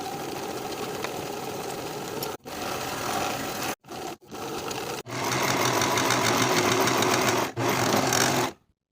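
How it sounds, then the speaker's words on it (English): A sewing machine runs a 3/8-inch seam on a cropped jacket sleeve in several bursts of steady motor whir, broken by short pauses and stops. "Sew this seam with a 3/8 inch seam allowance"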